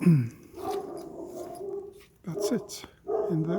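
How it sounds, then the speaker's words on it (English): A dog barks and whines at a rural stop along the Portuguese Camino, short yelps and tonal whimpers in separate bursts, mixed with someone speaking nearby. "and that's the dog barking."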